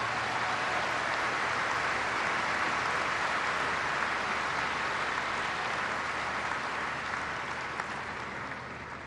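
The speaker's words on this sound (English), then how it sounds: "Let's give Fergus a round of applause" Sustained audience applause at the Brisbane International tennis trophy ceremony in 2017, for the chair umpire: a broad, even roar of many hands clapping that holds steady for several seconds and eases off slightly near the end.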